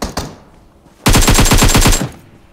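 Close, loud burst of automatic gunfire in a multiplayer shooter video game, a rapid rattle lasting about a second after two earlier single shots.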